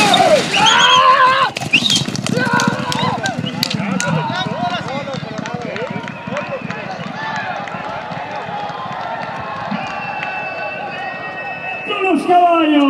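Galloping racehorses in a horse race in Ogden, Utah, with hoofbeats, whinnies and a loud crowd cheering under continuous announcer-style talk throughout.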